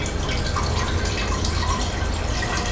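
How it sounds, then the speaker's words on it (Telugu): Water pours into a cooking pan on a medium flame while red sauce pasta is being made, a steady, close splashing stream that lasts the whole moment without pause. "నీళ్ళు వేసుకుందాం"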